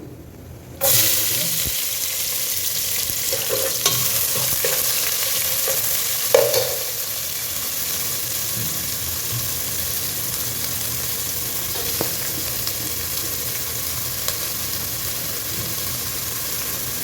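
Cumin, fennel, fenugreek and green chili frying in a pan for a coconut fish head curry, a steady loud sizzle that starts abruptly and continues with occasional stirring clicks and pops.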